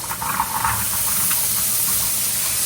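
Vegetables sauteing in a hot pan give off a steady, close sizzling hiss that holds level throughout, with no talking.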